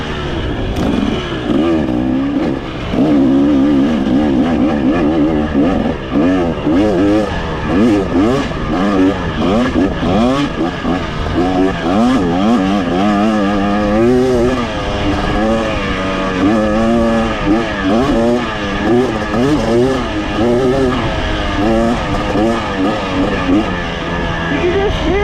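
A 2023 KTM 300XC dirt bike engine revs repeatedly, its pitch rising and falling in quick bursts, loud and close, with a buzzing rasp throughout.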